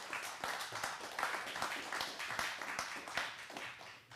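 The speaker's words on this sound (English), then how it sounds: "Let's give her a round of applause" Scattered clapping from an audience at a community speaking event, a modest round of hand claps, steady and moderately quiet with a few sharper individual claps standing out.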